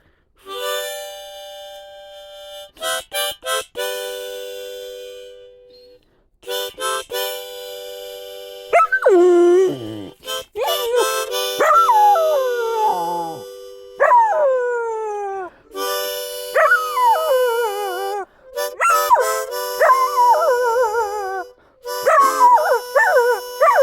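A dog howls in a forest in long, wavering, rising and falling cries, interspersed with short yips, close up and increasingly drawn out, over sustained harmonica tones in the background.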